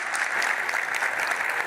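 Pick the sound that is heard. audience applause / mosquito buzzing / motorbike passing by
audience applause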